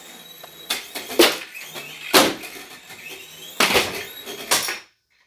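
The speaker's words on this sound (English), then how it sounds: "We're just gonna run straight into the closet doors." A budget beginner RC helicopter repeatedly strikes closet doors indoors, giving about six sharp clattering impacts with rattling between them, loud and close, before the sound cuts to silence.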